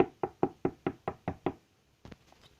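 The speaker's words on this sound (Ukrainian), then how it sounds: "Хтось стукає, треба в глазок глянути." Eight firm, evenly spaced knocks on a door in a video game come in a quick steady rhythm, close and clear, followed by a pause and a couple of faint, duller taps.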